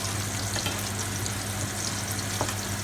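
Gambas prawns fry in a pan with a steady, close sizzle, and brief clatters sound as they are turned and tossed. No one speaks.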